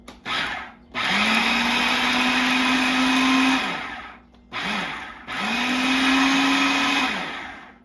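A kitchen blender chops whole coriander and other ingredients in short pulses: two loud motor bursts of a few seconds each, with brief spin-ups and quick stops between them.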